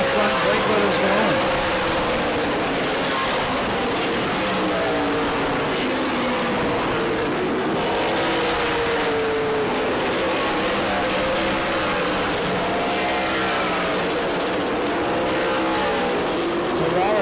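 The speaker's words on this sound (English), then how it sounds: "The Donnie Wilson car is fading here under this long green run to start the race." Super late model race cars lapping the New Smyrna oval during a long green-flag run, a constant loud engine roar with rising and falling passes, under a commentator's continuous talk.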